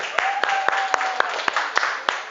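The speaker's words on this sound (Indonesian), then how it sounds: "Beri tepuk tangan untuk kelompok A1." Rhythmic unison clapping from a group in an Indonesian teacher-training class, around ten crisp, evenly timed claps, close and fairly loud, with a faint sustained tone running beneath the first half.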